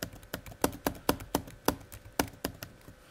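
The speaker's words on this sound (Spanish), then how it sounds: "Si le vamos dando al tabulador, podemos ir cambiando de parámetro." Someone repeatedly presses the tab key on a computer keyboard, about a dozen crisp clicks in a fairly even rhythm, heard close and alone with no talk.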